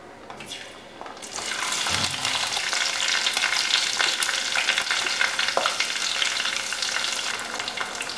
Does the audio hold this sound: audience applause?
no